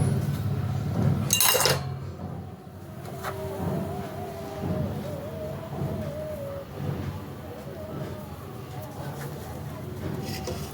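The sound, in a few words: metal bowl clinking while preparing mango kasundi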